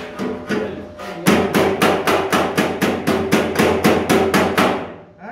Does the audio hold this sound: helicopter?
no